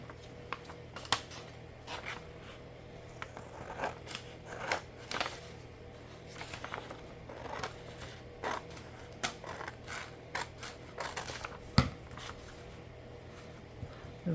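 Scissors snip through a piece of paper for a junk journal in a run of short, close cuts with soft rustling and handling between them.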